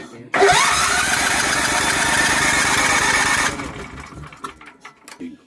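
A Tecumseh generator engine, newly converted to electric start, cranks briefly and catches, then runs loud and steady with an even mechanical chatter for about three seconds before cutting out, followed by scattered handling clatter.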